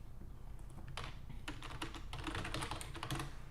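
Close, quick keystrokes on a computer keyboard, starting sparse and building into a busy burst of clicking typing with no voices.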